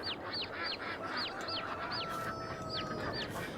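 A bird honking in the video game Farming Simulator 22: a rapid series of about ten short nasal honks in steady rhythm, fairly near, over a constant ambient background.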